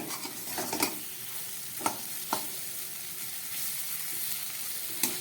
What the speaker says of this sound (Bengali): আলু, পেঁয়াজ, টমেটো, আদা বাটা আর সমস্ত মশলা দিয়ে আমার আলুটাকে 1 মিনিটের ওপরে কষিয়ে নিলাম